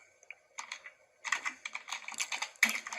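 Quick typing on a computer keyboard while entering text into a Java application built in NetBeans, with irregular bursts of close, crisp key clicks and short pauses between them.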